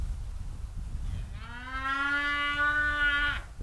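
A cow moos once nearby, a long drawn-out low call lasting about two seconds, over quiet outdoor background at a camping spot.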